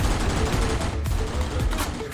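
Rapid automatic gunfire from two machine-gunners in the Thug Arena video game, a dense, continuous crackle of shots filling the whole stretch without pause, loud and close.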